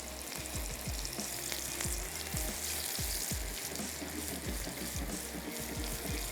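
Potato nuggets fry in hot oil with a steady, dense sizzle dotted with frequent small crackles and pops, close by, with no voices.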